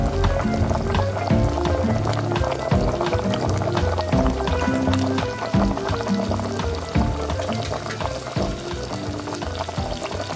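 Chicken adobo sauce bubbles and sizzles in a pan, a steady crackling simmer with clinks and stirring clatter throughout, close and fairly loud.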